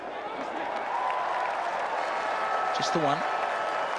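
A cricket crowd in Hamilton, New Zealand applauds McCullum during a New Zealand versus Australia match, with steady dense clapping and cheering held at an even level throughout. A commentator's voice is briefly heard over it.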